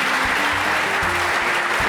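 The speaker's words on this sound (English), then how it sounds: "A round of applause for them." Crowd applause for university presenters at a SMART Challenge event, dense continuous clapping filling the room with low tonal hum and background voices underneath.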